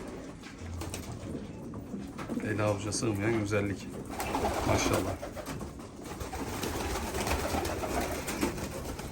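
Large male pigeons in a coop coo in deep, repeated throaty phrases, close and moderately loud, while someone speaks admiringly over them.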